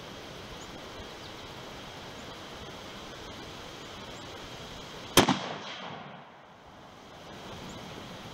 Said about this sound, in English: we're going to take one more shot